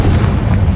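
A Confringo spell blast in Hogwarts Legacy lands as a dense, rumbling boom with a heavy low-end roar that fills the short moment without a break.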